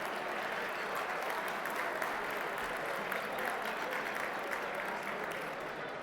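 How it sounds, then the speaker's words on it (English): An audience at an awards gala in a convention center applauds steadily, a dense wash of clapping from a large room that holds at an even level throughout. "How about, ladies and gentlemen, a big round of applause for the Infinity Convention Center"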